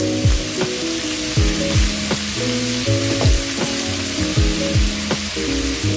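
Lots of shrimp sauté spread out in a pan, giving a loud, dense frying sizzle over low tonal hum, with a few soft thumps and no talking.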